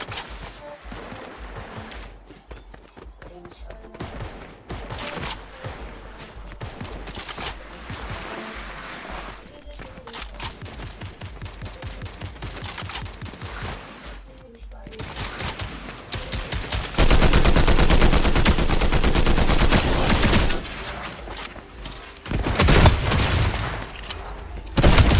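Video-game gunfire from a Fortnite livestream: dense rapid bursts and volleys run continuously for about 25 seconds, growing louder and heavier in the second half.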